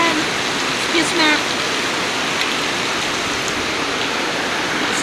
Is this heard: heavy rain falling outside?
yes